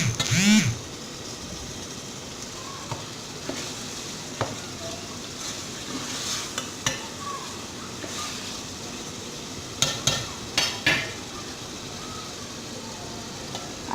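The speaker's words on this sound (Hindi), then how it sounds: "अब इसको हरी मिर्चों को कीमे के साथ मिक्स कर लेंगे अच्छी तरीके से।" Chopped green chillies being stirred through spiced minced meat keema in a hot pan, a steady low sizzle with scattered spoon scrapes and clinks against the pot, some sharper knocks near the end.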